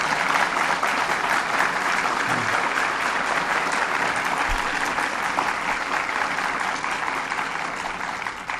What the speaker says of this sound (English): Let's ask them to stand and give them a round of applause.